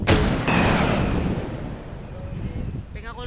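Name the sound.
gunshots from an AWM rifle in Minecraft, video game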